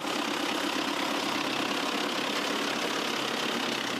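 A tractor engine idles during a trainee tractor driver's driving practice, a loud, continuous rough rumble with a faint knocking texture and no pauses.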